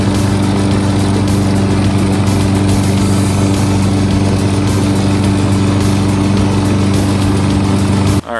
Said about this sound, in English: So I'm going to go ahead and mow that up too.